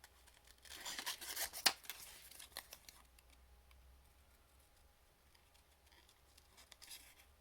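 Paper being trimmed with scissors while making a spring daffodil card: a quick burst of snips and paper rustle near the start, then quieter light handling of paper and small ticks.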